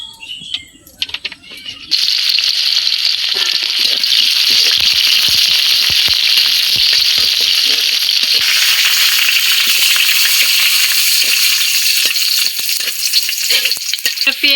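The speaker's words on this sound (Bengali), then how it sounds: "পেঁয়াজ আর তেজপাতা দিয়ে দিছি, পেঁয়াজটা হালকা ভাজা হয়ে গেছে।" Sliced onions and bay leaves fry in hot oil for a duck and potato curry, a loud steady sizzle that bursts in after a quieter opening and carries on unbroken with faint crackles, no voices.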